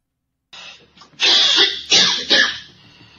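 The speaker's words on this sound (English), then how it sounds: "she's still coughing." A woman coughs three times in quick, harsh bursts, close up, after a soft breathy start.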